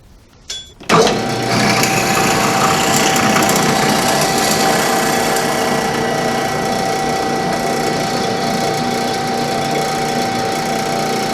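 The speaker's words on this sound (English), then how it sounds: "I'm using a Timberwolf bandsaw blade, 3/16 width, 10 TPI" A bandsaw fitted with a Timberwolf RK series blade, 3/16 inch wide, 10 TPI and 0.025 inch thick, starts up and runs steadily with a loud, continuous mechanical whir and hum, no one talking.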